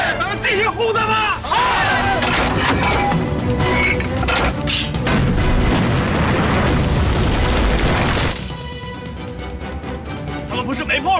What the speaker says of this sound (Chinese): 第一次开真炮，那真过瘾啊！ 以前打的都是训练的，那真炮真的娘的响啊